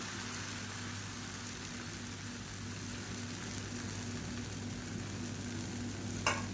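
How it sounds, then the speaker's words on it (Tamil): Dosa batter spread onto a hot oiled stone griddle gives a steady, fairly faint sizzle over low background hum, with a brief clink near the end and no voices. "எண்ணெய் தடவிட்டு தோசையாக ஊற்றிக்கலாம்"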